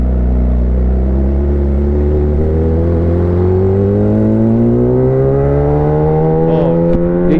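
A big motorcycle's engine rumbles loud and close as the rider pulls away across a road. The pitch climbs steadily under acceleration, with no voices over it.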